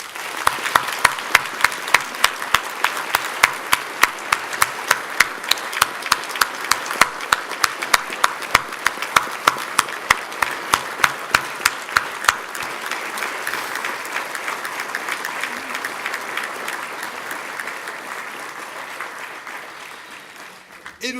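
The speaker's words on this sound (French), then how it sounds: "nous préférons honorer nos collègues disparus par une minute d'applaudissement" A long round of applause at an awards ceremony in Epinal honoring deceased colleagues, beginning as slow rhythmic unison clapping, then dissolving into a dense, continuous ovation that gradually fades toward the end.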